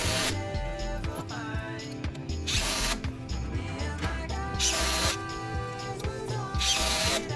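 Power drill driving check screws into timber house framing, with repeated short whirring bursts rising and falling over steady background noise.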